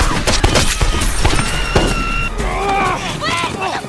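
Sharp bursts of gunfire crack repeatedly inside a house amid shouting voices and chaotic noise, loud and close, with a lingering echoing tail.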